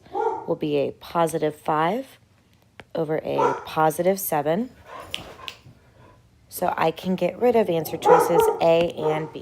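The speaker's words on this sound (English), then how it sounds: "Sorry about my dog in the background." A dog barks and whimpers intermittently in the background while a person talks through a math explanation, the yips rising in short bursts between and under the speech.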